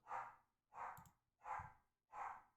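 A dog indoors barks four times in a steady, evenly spaced rhythm, each bark fairly muffled and moderately distant, with no talking.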